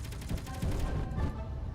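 Enemy ship firing in the Space Engineers video game, a dense, rapid, continuous burst of gunfire with a rumbling low end, loud and steady throughout the short stretch.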